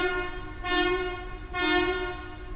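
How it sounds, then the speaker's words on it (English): A historic scenic tourist train sounds its horn in two long blasts with a short gap between them, heard from some distance as a harmonic, wavering tone over faint background noise. "historic train, and it kind of blows horns during the day"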